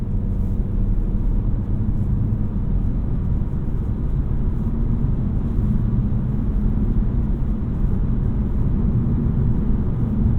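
Steady low road and engine rumble inside a 2023 Honda Civic EX with the 1.5-litre turbo while driving, a muted, even drone with little wind noise, constant and alone for the whole stretch.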